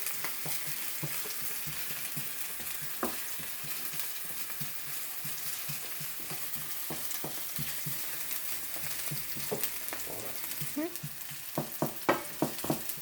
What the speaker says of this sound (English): burning the outside layer of this ginger